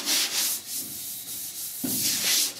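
Hand sanding with 320-grit paper across a primed cab rear panel of a 1966 Ford F100: a steady, close, loud scratchy rubbing in continuous strokes, with a brief break and a change of texture near the end.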